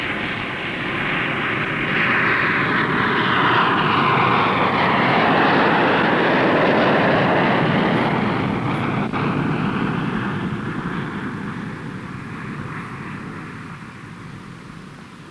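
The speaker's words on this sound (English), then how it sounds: "As National 185 climbs from the runway, the local controller in the tower will advise him to contact departure control" National 185, a fixed-wing airliner, taking off from a runway and climbing away, a loud sustained engine roar that swells, holds steady, then slowly fades as it gains height, heard alone with no talk.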